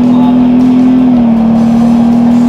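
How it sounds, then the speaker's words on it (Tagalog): Ford Bronco engine growling under full throttle during a test drive, a steady loud drone with a strong low tonal hum holding throughout, heard from inside the cabin with no talk. "ramdam mo yung growl ng makina, no?"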